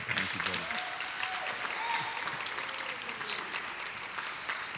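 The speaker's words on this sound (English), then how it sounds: "he deserves a big round of applause" An audience claps steadily at a community museum unveiling, a dense, sustained applause of many hands filling the room, with a few faint voices underneath.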